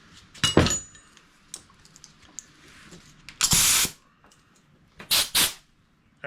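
A nearly spent air compressor blasts out 1970 Stingray headset parts in three sharp, loud hissing bursts: a short one, a longer steady one, then a double puff, with quiet workshop clatter between.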